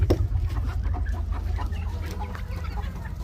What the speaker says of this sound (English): I'm going to go ahead and let the birds out.